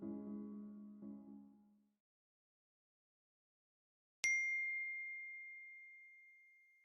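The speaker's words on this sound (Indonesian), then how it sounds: "Handphone kamu bunyi tuh." A mobile phone gives a single bright chime notification that rings out clearly and fades slowly in a quiet room, following a low hum that cuts off before it.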